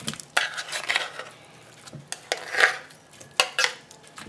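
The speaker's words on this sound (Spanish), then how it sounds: "Mezclamos bien para que se integre todo muy bien con el huevo" Diced pepper stuffing being mixed with egg in a bowl, close clinking and scraping of a utensil against the dish in irregular strokes.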